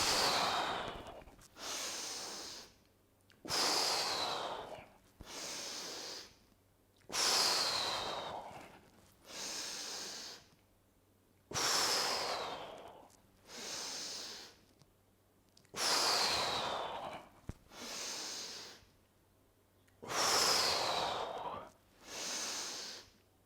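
Forceful, rhythmic breathing during the Five Tibetan Rites exercises, about a dozen loud close inhales and exhales in strong alternating pairs with brief pauses between.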